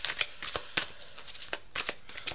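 Tarot cards are shuffled close by in a series of crisp, quick riffling and sliding bursts separated by brief pauses, soft and without talk.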